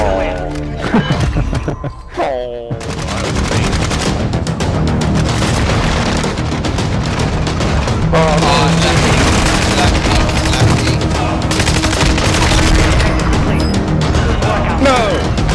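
Warzone 2 gunfire in dense, loud bursts of rapid shots and booming blasts, continuous through the clip, with excited voices talking over the battle.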